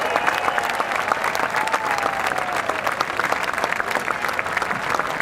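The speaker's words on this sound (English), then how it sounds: "Let's give them a round of applause" A crowd at a Boeing founders celebration night gives former Boeing employees a round of applause, sustained dense clapping from many hands with a few faint voices and whistles mixed in.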